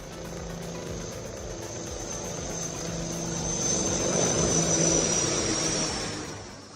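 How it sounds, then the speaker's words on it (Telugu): An HAL Dhruv NG civilian helicopter in flight, its steady engine and rotor drone building to a loud peak near the middle before easing off, heard alone with no voices. "అత్యాధునిక పౌర హెలికాప్టర్ రెక్కలు విప్పుకుని ఆకాశంలోకి విజయవంతంగా ఎగిరింది."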